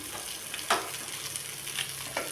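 Rock fish frying in a pan, a soft steady sizzle with a few brief clatters of a utensil turning the fish, close by and fairly quiet, no talking.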